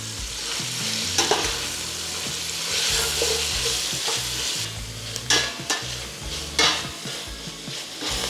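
Outer cabbage leaves sizzle in rendered fat and butter, a steady frying hiss broken by repeated scraping and stirring strokes of a utensil against the pan, close and fairly loud.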